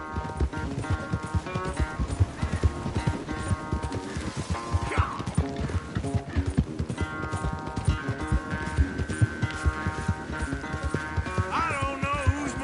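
A galloping horse in a race in the video game Red Dead Redemption 2: steady, fast clip-clop hoofbeats running throughout under a bed of music, with a brief whinny-like cry partway through.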